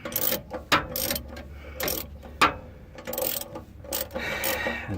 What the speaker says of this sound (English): And now I'm bolting in the starter.